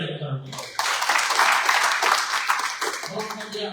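A church congregation at a Batam service bursts into broad clapping after a preacher's cue, the dense applause swelling loud and steady for about two seconds before thinning, with speech at the edges.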